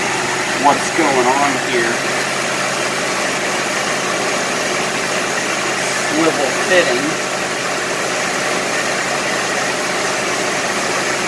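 A 2007 Honda Pilot engine idles with a steady, even hum that fitted with an Amsoil bypass oil filter, loud and close throughout while someone talks over it.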